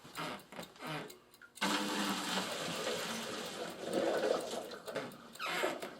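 Hot water is poured out in a home kitchen during a cheese-waxing job, a close, steady rushing splash that starts abruptly and runs for several seconds after some faint clattering.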